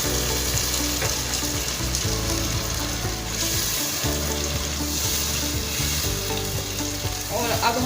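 Tomato paste fries loudly in a pan for a mutton wadiyan curry, a steady dense sizzle that runs the whole time with occasional stirring scrapes and clatter, no voices.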